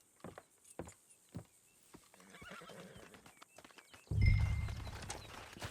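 A horse in Red Dead Redemption 2 clip-clops at a steady walk, then gives a loud whinny near the end.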